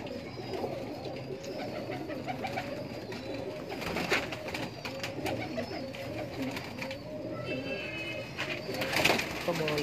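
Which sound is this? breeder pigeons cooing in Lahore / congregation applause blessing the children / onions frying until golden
breeder pigeons cooing in Lahore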